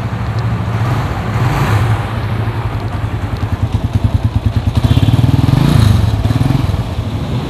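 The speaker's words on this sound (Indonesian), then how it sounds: "suara-suaranya mirip-mirip sama Satria FU dan mesinnya 150cc" A 2017 Honda 150cc sport motorcycle with its original exhaust runs close by, a loud steady engine idle that swells into a rapid pulsing throb as it is revved, then settles again.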